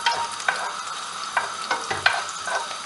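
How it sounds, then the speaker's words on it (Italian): Chopped shallot fries in olive oil in a pan with a steady close sizzle, and stirring adds brief scraping knocks at irregular intervals. No one speaks. "nella nostra padella ho messo l'olio e sto facendo rosolare lo scalogno"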